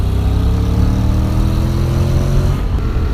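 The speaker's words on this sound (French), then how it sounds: "On a une sonorité qui est plutôt sympa. C'est un moteur qui marche bien mais qui vibre beaucoup." A 2017 Honda X-ADV 750 cc crossover scooter rides on the road, its engine holding a loud, steady, close drone with a slowly rising pitch and no talking.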